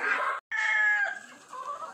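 Two farm hens with newly hatched chicks cluck in a pair of close, throaty bursts separated by a brief pause, followed by softer murmuring calls.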